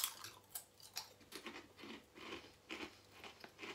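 Faint crisp crunching of Seabrook Nacho Cheese & Jalapeño Curly Fries, firm snacks bitten and chewed in a quick irregular series of close, quiet crunches.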